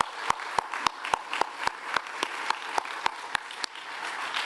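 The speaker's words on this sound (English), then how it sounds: "Give a round of applause to Deborah Bird." Audience applause at a downtown annual meeting, honoring the director of homeless services: steady clapping with sharp individual claps standing out, moderately loud and continuous throughout.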